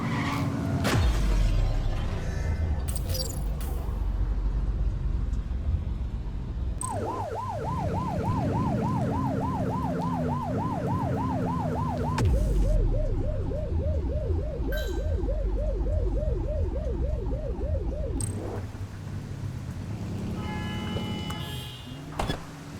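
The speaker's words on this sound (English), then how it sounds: "They won't know if you want to pull them over if you don't turn your siren on." Police car siren in the video game The Precinct, wailing in a steady rising-and-falling cycle that then switches to a faster yelp, loud and close over continuous engine and traffic rumble.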